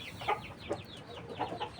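Local breed chickens in a coop give several short, scattered clucks at moderate distance over a steady farmyard background.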